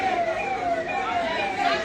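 An ambulance siren wails outside MY Hospital in Indore during a protest, its tone sliding steadily and sounding loud and fairly near, with crowd noise around it.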